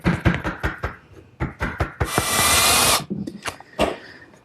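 Power drill driving screws into a wooden fence piece of a chop saw station in a woodworking shop, a roughly one-second whir between series of sharp taps and knocks.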